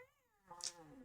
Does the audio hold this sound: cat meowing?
yes